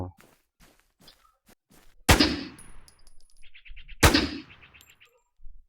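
Gunfire in the WarZ video game during a mouse macro test: two sharp, loud shots about two seconds apart with ringing tails, among light clicks, faint chimes and soft game sounds.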